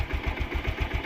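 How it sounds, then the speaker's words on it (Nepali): A motorcycle engine idles just after starting, a steady, rapid, close low thumping with an even rhythm and nothing else over it. "स्टार्ट भइसक्यो बाइक"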